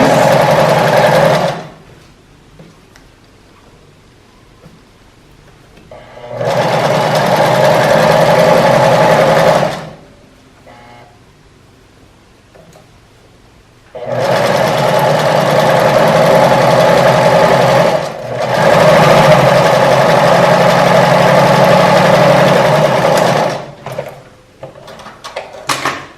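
Home sewing machine fitted with a twin needle stitching elastic, running loud and close in three long steady bursts of fast whirring and clatter, separated by quiet pauses.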